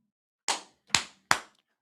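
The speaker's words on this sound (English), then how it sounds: "that's the sound of me wiping my hands." Hands are brushed off against each other in three sharp, close slaps spaced roughly half a second apart, each decaying quickly into silence.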